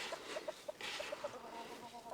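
Free-range farm chickens at the foot of Jirisan cluck softly while pecking grain from a rain-sheltered automatic feeder: a string of short, quiet clucks at an irregular pace, fairly close.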